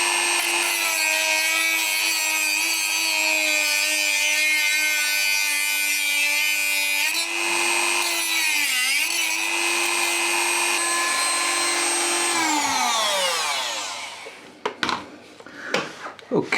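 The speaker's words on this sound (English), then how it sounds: "I've got my Dremel with a little cutting disc on the Dremel, and I'm going to try and cut it off with that" A Dremel with a small cutting disc grinds through a bolt on a Norton Commando 961 motorcycle, a loud, sustained high-pitched whine that wavers slightly under load, then spins down and stops near the end.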